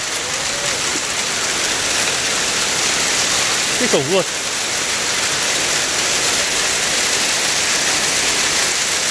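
Heavy hail pounding down on a house in a mountain village in northwestern Vietnam, a loud, dense, steady roar of impacts that runs unbroken through the clip, with a brief voice speaking over it midway.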